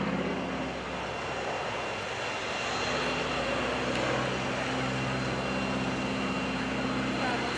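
A World War II trainer propeller plane's 600-horsepower engine drones steadily and loudly throughout an air show, a continuous rumbling roar with no break.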